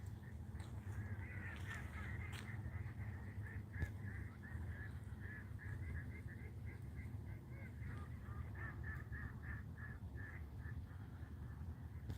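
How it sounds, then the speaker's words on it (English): Ducks quack repeatedly at night, a fairly faint chorus of rhythmic, nasal calls in quick series over a low background hum. "I never even heard ducks quack at night."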